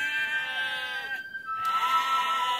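A cartoon sheep in a children's story about a shepherd boy bleats twice: a wavering, tonal bleat, a short gap, then a second bleat, close and clear with no talking.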